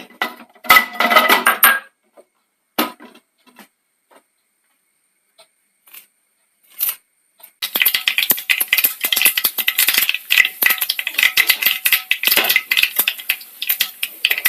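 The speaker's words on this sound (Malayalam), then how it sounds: "ചൂടായ എണ്ണയിലേക്ക് കടുക് ഇട്ട് കൊടുക്കാം." Mustard seeds crackle and pop in hot coconut oil in a pan, a few scattered pops at first, then after a pause a dense, loud burst of sharp spattering crackles that continues to the end.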